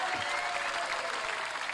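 A clapping sound effect is played during a podcast, giving a steady, dense wash of crowd applause that stays even and fairly loud throughout without any talking.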